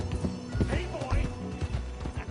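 A horse in the video game Red Dead Redemption 2 whinnies while its hooves clop, close and fairly loud, with faint voices in the background.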